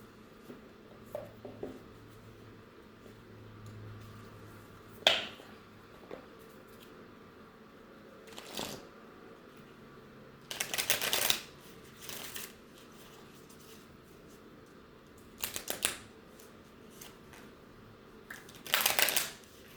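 Someone shuffles an intuition card deck in a quiet room. Soft, brief riffles and rustles come in scattered bursts with faint handling noises between them.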